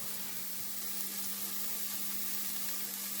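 Garlic cloves frying in a pan as a soup base give off a steady, even sizzle that holds at the same level throughout, with a faint low hum beneath it.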